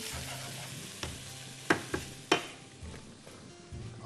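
Onions sizzle in a pan while being stirred, with a few sharp clanks of a utensil against the pan over a steady low frying hiss; no talk.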